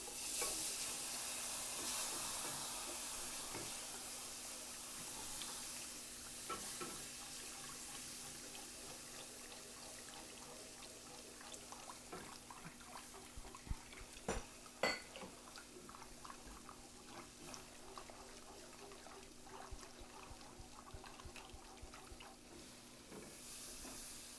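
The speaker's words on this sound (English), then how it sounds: "I'm going to go ahead and add half of my milk" Milk is stirred into a light tan roux in a hot pan, giving a soft, steady sizzle and liquid swish that continues throughout, with a few faint clinks partway through.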